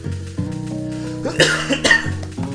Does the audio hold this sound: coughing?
yes